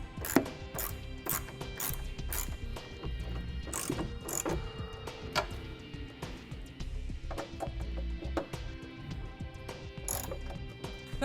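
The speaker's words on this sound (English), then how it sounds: "Now we can start tightening down our stabilizer brackets that we installed earlier." A ratchet clicks in rapid, repeated bursts as it tightens Rhino-Rack heavy-duty roof rack stabilizer brackets on a 2015 Jeep Wrangler, close and fairly quiet, with short pauses between runs of clicks.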